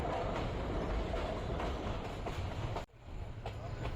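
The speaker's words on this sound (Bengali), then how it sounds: "আমাদের ট্রেনটি এখন প্রবেশ করছে আশুগঞ্জ রেল স্টেশনে" Loud rolling rumble and clickety-clack of a Titas commuter train pulling into Ashuganj railway station in Bangladesh, heard from inside the carriage, with a sudden brief dip before the clatter resumes.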